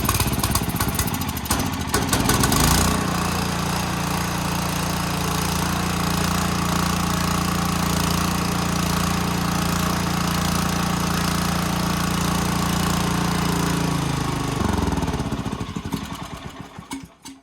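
An Ariens 624 snowblower engine pulls over and fires up, then runs loud and steady at a constant high pitch for about twelve seconds before winding down and cutting out near the end, no voices over it.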